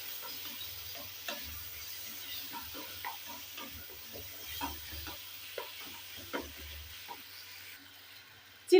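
Chili paneer with tomato ketchup is stirred in a sizzling pan, with a spatula scraping and tapping in an irregular rhythm over a steady low frying hiss.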